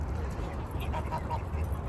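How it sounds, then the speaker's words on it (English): Backyard geese honking during a feeding test with black soldier fly larvae, a few soft, nasal calls heard close by over a steady low background hum. "Alright, so the geese are kind of into it."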